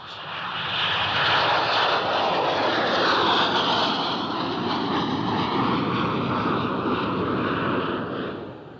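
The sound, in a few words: Dornier jump jet aircraft engine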